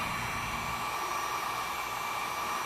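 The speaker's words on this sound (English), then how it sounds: "Picked up this heat gun from Harbor Freight for 10 bucks or something like that. We'll go low setting" A Harbor Freight heat gun runs on its low setting to warm a dealership decal on a car, giving a steady, even blowing whine, close and constant with no talk.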